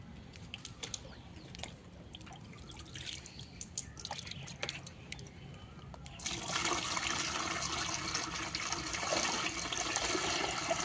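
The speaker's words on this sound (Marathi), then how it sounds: "आता थोडंसं पाणी टाकतो त्यात मी" Faint outdoor background, then a steady rush of water begins halfway through and keeps pouring loudly into a pot holding a lotus tuber until the end.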